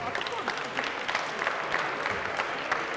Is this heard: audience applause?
yes